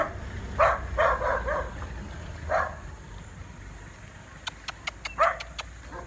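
A dog gives several short barks and yips, a quick cluster near the start and another later, set against faint outdoor background hum, with a few sharp clicks and no talking.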